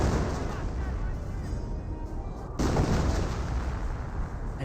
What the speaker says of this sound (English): I'm pretty sure that's officer artillery coming in from the captain as well.